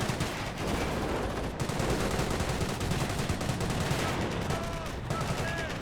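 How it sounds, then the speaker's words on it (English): Dense, continuous gunfire and explosions from the World War II strategy game Company of Heroes 1, with rattling machine-gun bursts and grenade blasts layered loudly and without break throughout. "Pop grenades to force back those grenadiers."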